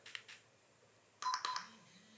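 Two quick electronic beeps from a Visiotech VC Series body camera sound close up, preceded by faint clicking, in an otherwise quiet setting.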